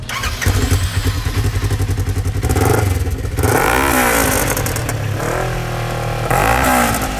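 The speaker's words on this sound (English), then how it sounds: "The idle is very aggressive and beefy, and under load really opens up and gives you that wonderful roar." Polaris RZR fitted with a Billy Bo exhaust, idling with a beefy burble and then revved several times with rising and falling roars, loud and close, no talking.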